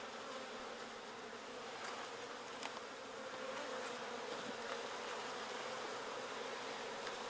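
Honey bees swarm around an open hive frame with capped and uncapped brood, a dense, continuous buzzing hum at moderate distance, with no one speaking.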